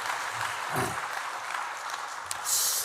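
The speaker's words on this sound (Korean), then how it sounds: "뜨거운 박수로 우리 격려해 주시기 바랍니다." Scattered applause from an audience at a parents' lecture on faith education, a fairly faint, diffuse patter of clapping lasting a few seconds with a little background noise and no clear talk.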